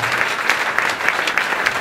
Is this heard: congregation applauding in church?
yes